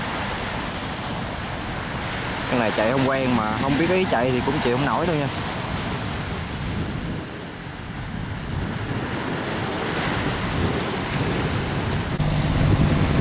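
Rough waves churn at a river mouth as a boat heads out to sea, a loud, constant rush of water and wind noise filling the scene while someone talks over it.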